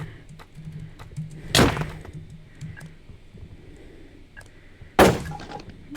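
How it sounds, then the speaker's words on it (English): Axe strike breaking a raised shield in Minecraft PvP: a sharp, loud crack-and-clatter burst, followed seconds later by a second similar hit, over quiet game ambience with faint clicks. "As he's gonna hold up his shield, I can break it like that."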